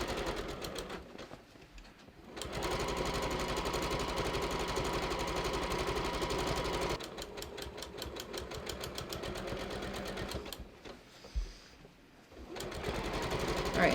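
A sewing machine stitches the hem of denim jeans, running in long steady bursts with brief pauses between passes, clear and fairly close with no talk over it.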